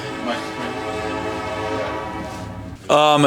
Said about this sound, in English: Would you like me to let this train go by first?